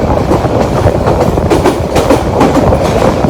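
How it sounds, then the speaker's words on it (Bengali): A passenger train travels from Dhaka toward Gafargaon and Kishoreganj on a foggy morning, its wheels beating a loud, steady clickety-clack over the rails with a continuous rumble throughout. "আর অল্প কিছুক্ষণ পর আমাদের ট্রেন দিরাশ্রম রেলওয়ে স্টেশন অতিক্রম করবে"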